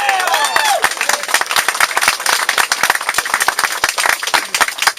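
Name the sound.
protest crowd applauding outdoors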